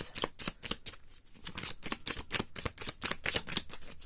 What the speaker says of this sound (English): Let me get you romance cards.